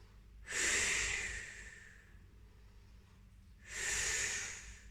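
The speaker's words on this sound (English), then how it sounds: "just taking 2 breaths" Two slow, deep breaths during a Pilates towel workout, each a strong airy inhale-exhale swell separated by a quieter pause, close and clear with no talking.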